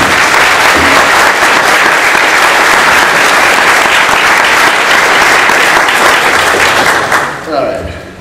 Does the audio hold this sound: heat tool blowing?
no